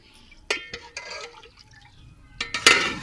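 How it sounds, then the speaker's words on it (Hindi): Water poured into a cooking pot of porridge on the stove, heard as a few short liquid splashes and trickles at moderate distance, with quiet gaps between them and no talking. "इतना पानी मैंने डाल दिया है"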